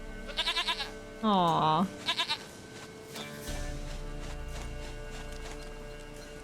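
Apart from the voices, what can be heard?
goat bleating in the video game The Witcher 3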